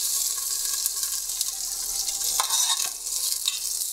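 Onion and carrot frying in a pot as the base for a Finnish-style trout fish soup with cream, a bright steady sizzle with stirring scrapes and bursts, close and loud, no voices.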